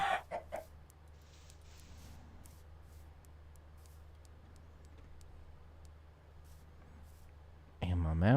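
A chicken clucks in a video game, with short squawky bursts at the start and again at the end over a constant low background rumble.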